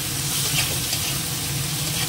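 Shrimp fry with vegetables in a pan, giving a loud, continuous, even sizzle with light stirring, close up and with no talking.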